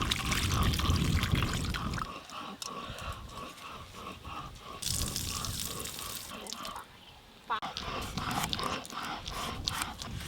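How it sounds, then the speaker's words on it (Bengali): Potatoes being washed in a kitchen: water pours and splashes steadily, with sloshing and rubbing over continuous running water, loud and close. "আলুটা জল দিয়ে ভালো করে ধুয়ে নেবো।"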